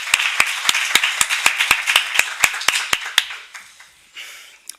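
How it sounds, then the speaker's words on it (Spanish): A small audience at an association presentation breaks into brief applause, a dozen or so sharp claps in a quick, fairly even rhythm, close and moderately loud, then thinning out into a few scattered claps and room noise. "Si us sembla bé, comencem amb un aplaudiment per a ell"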